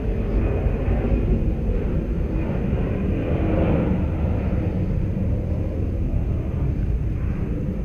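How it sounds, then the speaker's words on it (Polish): A steady, heavy low rumble of a jet airplane coming in to land, heard from inside an abandoned villa, loud and continuous throughout with no voices. "Słychać lądujący samolot."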